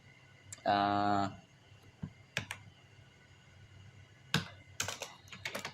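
Computer keyboard typing while writing HTML code, with short bursts of clicks and keystrokes after a brief spoken phrase and more clustered taps near the end.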